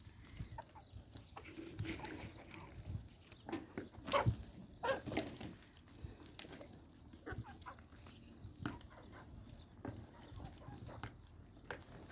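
Free-range chickens cluck and scratch about nearby on a sunny rooftop, with scattered soft clucks and rustles throughout.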